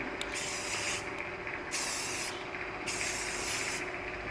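Spray paint hisses from an aerosol can onto a 2025 Toyota Tacoma grille in three short, even bursts with brief pauses between them, close and alone.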